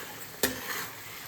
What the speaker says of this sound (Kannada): ಕರ್ಬೇವಿನ ಸೊಪ್ಪು ಹಾಕ್ಕೊಂಡ್ಬಿಡೋಣ.